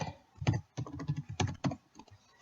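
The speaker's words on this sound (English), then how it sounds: "Then you would backspace it, and then you would type in whatever you want." Clicky computer keyboard typing while renaming an object in Roblox Studio: a quick burst of keystrokes with a few heavier taps, close and clear, with no talking.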